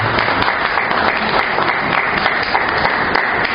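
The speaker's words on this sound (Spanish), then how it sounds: "démosle ese fuerte aplauso de bienvenida" Church congregation gives a loud, sustained round of welcoming applause, dense clapping filling the room evenly with no talk over it.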